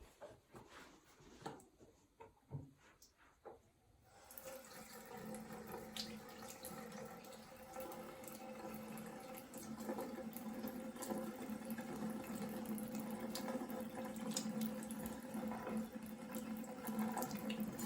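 Steady rush of water running from a sink faucet during hand washing, starting after a few quiet seconds and continuing close and constant to the end.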